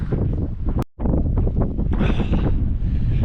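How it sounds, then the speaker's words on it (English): Strong wind buffets the microphone high on a Himalayan mountain trail, a loud, rough, continuous roar with one brief dropout. "The wind up here is no joke."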